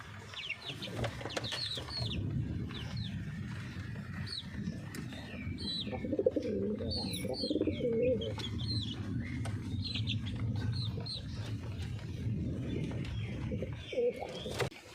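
Lakka (fantail) pigeons coo steadily in low, rolling calls through the whole stretch, with scattered higher bird chirps and flutters mixed in, fairly close and continuous.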